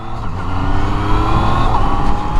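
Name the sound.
Yamaha MT-09 847cc inline three-cylinder motorcycle engine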